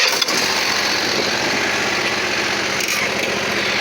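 A Bad Boy MZ Magnum zero-turn mower engine catches after a brief crank and settles into a steady, loud, close idle that holds without any break.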